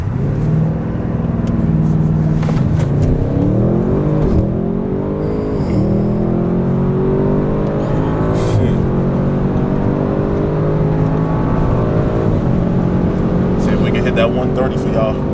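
A 2021 Audi RS6 Wagon accelerates hard down a quarter mile, heard from inside as a loud engine note that climbs through rising gear pulls with brief dips at each shift, people talking over it.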